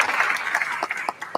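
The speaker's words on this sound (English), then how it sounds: "Let's give her a round of applause" A community pitch-contest audience applauds a contestant, a dense wash of close clapping filling the brief moment, with a few sharper individual claps toward the end.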